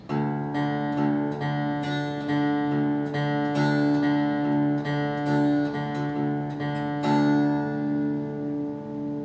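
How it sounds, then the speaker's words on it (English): Fingerpicked acoustic guitar plays a steady alternating bass pattern, with treble notes plucked together with the bass at regular intervals, soft and close. "start out with your alternating bass, and then we're going to do what we call a pinch"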